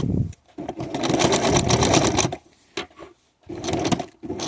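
A sewing machine stitches a macramé placemat, running in a loud steady whir for about two seconds, then stopping and restarting in short bursts as it backstitches to reinforce the seam.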